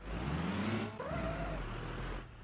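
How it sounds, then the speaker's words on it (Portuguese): An engine in the BeamNG.drive driving game revs and strains with a deep, bus-like drone, climbing in pitch, dropping briefly at a gear change, then rising again. "Nossa senhora, motor de busão, velho."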